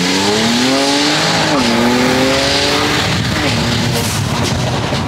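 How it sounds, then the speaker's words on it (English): A BMW E92 335i launches on launch control with traction control off, its engine revving hard through rising gear sweeps while tires squeal loudly. The roar stays close and continuous, with a voice audible underneath. "Launch control, turn off traction once. Manual, hit the brake,"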